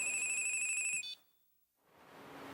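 A phone ringtone plays repeating bright electronic tones for about a second, then cuts off, leaving near silence and faint room hum.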